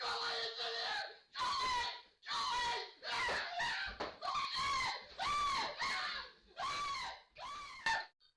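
A terrified man screams in an office as a squirrel leaps into the room, giving a string of loud, piercing shrieks in short bursts separated by brief gaps.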